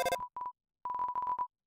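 A phone call sound from the video game Undertale plays as a bright electronic chirp, then a short two-note pulse and a longer run of rapid, evenly spaced tones, loud and clean with no voices.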